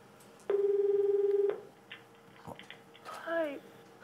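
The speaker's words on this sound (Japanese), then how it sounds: "村本、もう一度寝かせて次の挑戦者に電話" A single telephone ring tone sounds as a call is placed to the next contestant on a Japanese variety show's wake-up challenge, one steady tone of about a second, followed by brief clicks and a faint voice.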